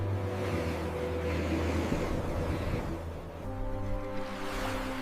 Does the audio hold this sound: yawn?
no